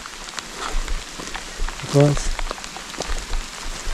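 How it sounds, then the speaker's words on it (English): Heavy rain pours steadily on an outdoor rock wall site, a dense continuous hiss of drops close by with brief talk breaking through near the middle. "Rain is very fasting"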